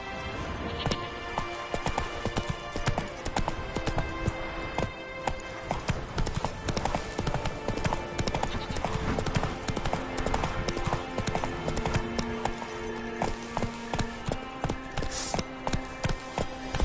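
Horse hooves galloping in The Witcher 3 on PS5, a fast, continuous clip-clop rhythm close and loud, carrying on steadily with light gear rattle and no pause.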